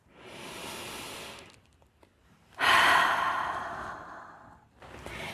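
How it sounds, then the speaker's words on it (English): Slow deep breaths during a calming breathing exercise: a long airy inhale, a pause, then a louder, longer exhale, followed by the start of another breath, close and alone. "Take a couple of deep breaths."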